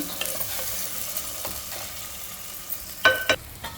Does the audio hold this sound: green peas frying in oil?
yes